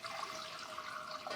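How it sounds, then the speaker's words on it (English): Water pouring steadily into a cooking pot for shrimp and grits, a continuous close splashing rush that holds at an even level throughout, with no talk. "I'm gonna add some water."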